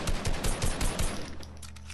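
Gunshots in a video game: a loud, fast burst of around eight rhythmic automatic shots up close, then trailing off into a rumbling echo with scattered fainter shots.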